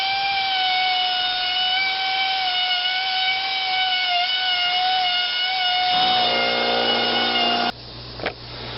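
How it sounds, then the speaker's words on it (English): An air drill fitted with a wire brush scrubs loose surface rust off parts of an 1844 Purdey 10 bore double rifle, a steady high-pitched whine that shifts into grinding contact near the end, close and without talking. "now I'm going to take my air drill and I'm just going to brush this loose surface rust off"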